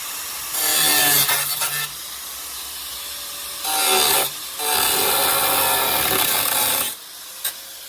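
A piece being cut off before grinding, giving loud rasping cutting bursts that come in separate stretches with short pauses between them.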